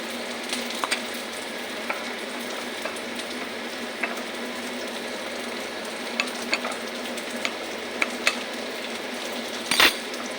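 Onion and spice paste fry steadily in a pan with an even, moderate sizzle, marked by occasional light clicks and one sharper knock near the end, and no voices are heard.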